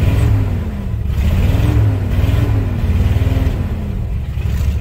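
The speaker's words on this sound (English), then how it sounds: "revving a cold engine that's been sitting," A cold car engine that has been sitting revs up and down repeatedly, loud and close, its low rumbling drone rising and falling in uneven surges with no talking.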